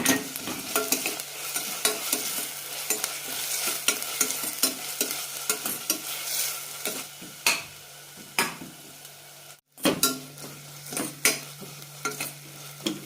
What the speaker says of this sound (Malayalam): നമുക്ക് അരച്ച് വെച്ച മുളക് ചേർക്കാം. നന്നായി വഴറ്റാം.